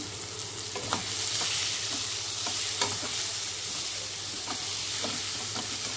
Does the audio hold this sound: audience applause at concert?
no